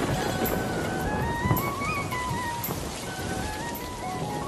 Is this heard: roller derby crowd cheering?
no